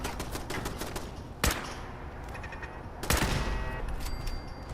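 Gunfire against turrets in Fallout 4 comes as a steady patter of rapid shots, cut by two sharp, louder bursts partway through, with no talking.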